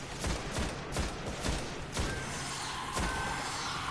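Rapid gunfire in the video game Destiny, a dense run of repeated shots with sharp bursts at regular intervals over steady game noise, loud and close, with no talk.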